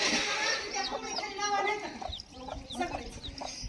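A hen with two or three chicks clucks repeatedly nearby while people talk over it, the calls mixing with voices throughout.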